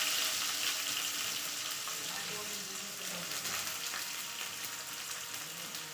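Mustard seeds and onion fry in hot oil in a pan for brinjal palya, giving a loud, continuous sizzle with crackling spatter that stays steady throughout.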